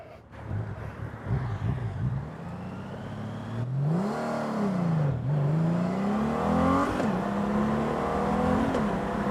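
A new Honda Gold Wing motorcycle accelerates hard from 0 to 60 on a highway on-ramp, the engine note climbing through several gear shifts with brief dips between, loud and close with wind roar building.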